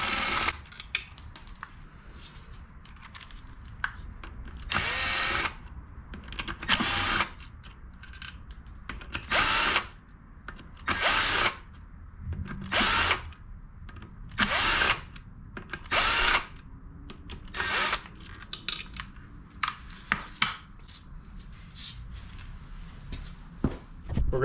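Power tool backing out supercharger bolts on a Camaro ZL1, a dozen or so short bursts of whirring drill noise separated by pauses, close and fairly loud with faint background clatter.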